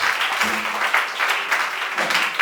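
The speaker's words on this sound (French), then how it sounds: "put our hands together for Jesus" Church congregation applauding during a bilingual French-English sermon, a steady dense wash of clapping that holds evenly throughout with faint voices underneath.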